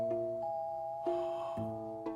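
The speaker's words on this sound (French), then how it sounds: "il est réveillé par la sonnette." A two-tone chime doorbell rings clearly, with sustained bright tones changing pitch several times, fairly close and alone.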